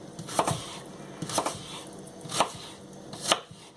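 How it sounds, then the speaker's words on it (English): Knife chopping food on a cutting board, four distinct sharp chops spaced about a second apart, fairly close and alone with no talk. "make 1, 2, and then just chop it down the middle"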